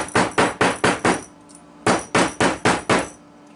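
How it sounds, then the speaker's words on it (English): A nylon hammer pounds metal flat while making a pill box: about ten sharp, ringing blows in two quick rhythmic runs with a short pause between, close and loud. "before you do anything else, get a nylon hammer"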